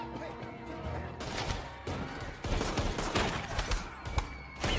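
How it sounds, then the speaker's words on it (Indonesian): Gangsters and police trading fire in a Jason Statham action film: dense volleys of gunshots and crashing impacts pile up in a continuous loud barrage, heavier in the second half. "harus baku tembak dengan polisi"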